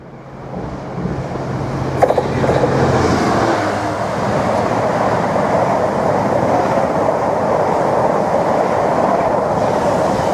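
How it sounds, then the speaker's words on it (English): Network Rail Class 153 inspection unit heading into stabling sidings, a loud close rumble building quickly after a sharp clank, then sustained wheel and engine roar as it passes, with no voices. "Here comes one of Network Rail's Class 153 inspection units, which is going into the stabling sidings"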